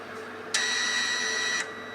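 A wire feeder motor on an SSVA Samurai welder, whose wire feed would not regulate, whines steadily for about a second at lowered speed, a close mechanical hum that starts and stops abruptly with no voices.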